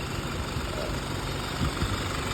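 A 3.0 common rail turbo diesel engine with stock turbo and exhaust idles close by, a steady, even rumble with a faint knocking texture and no talk over it.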